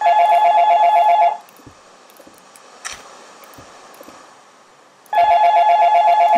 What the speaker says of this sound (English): Oh my god, my phone is so loud.